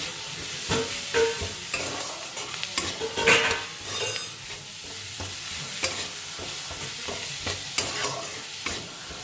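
Spices with salt and turmeric are stirred in a frying pan, a steady close sizzle broken by repeated scraping strokes of a spoon against the metal, with no voices.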